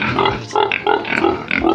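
Four pigs on a small farm grunt in a quick series of loud, close, rhythmic oinks and snorts with no talking.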